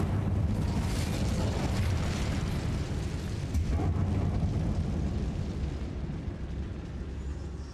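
The Incendio fire spell is cast in Hogwarts Legacy inside a closed-off mine. It produces a loud, sustained roaring burst of flame that fills the whole stretch and tapers only slightly at the end, with no talking.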